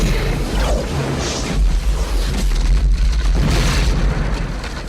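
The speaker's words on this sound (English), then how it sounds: "he shoots snotty fireballs" A dragon in the fantasy film DragonHeart shoots fireballs, heard as a dense, loud, continuous roar of booming, rushing blasts with swelling whooshes and low rumbling throughout.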